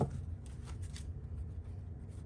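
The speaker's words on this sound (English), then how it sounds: "It's like I can riffle these cards" Laminated tarot cards being riffle shuffled, a soft continuous fluttering rush of card edges close up, fairly quiet, with no talking.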